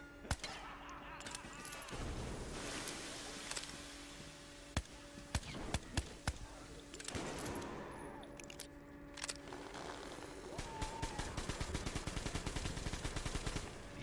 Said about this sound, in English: Yes, machine gun.